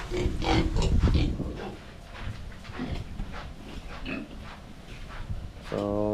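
Native pigs grunt and squeal in a pen, a busy cluster of close snorts and oinks at first that thins to scattered grunts, with a brief word spoken.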